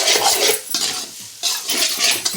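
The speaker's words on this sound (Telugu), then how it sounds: "ఇప్పుడు ఒకసారి దీన్ని కలుపుకున్నాము" Spoon scraping and stirring rice mixed with tasting salt in a pan for gobi rice, in steady close strokes with a short pause midway, no talking.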